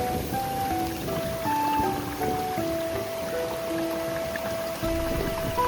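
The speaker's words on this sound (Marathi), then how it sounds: "पाऊस पण आला." A rain shower falls over a planted rice field, a steady soft hiss of drops. A few faint tones run through it in the background.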